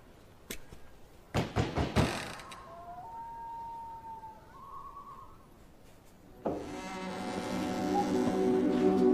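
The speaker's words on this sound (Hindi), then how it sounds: "नॉक करो।" Knocks on the wooden door of a 16th-century villa land as a quick burst of raps, followed by a quiet pause with a thin tonal hum and then a swelling, sustained musical drone.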